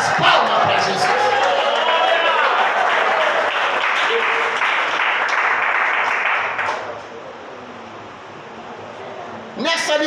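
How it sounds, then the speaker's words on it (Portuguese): A church congregation claps and cheers loudly for Jesus in sustained applause mixed with voices, fading after several seconds before a brief burst resumes. "Dá glória e bate as palmas para Jesus."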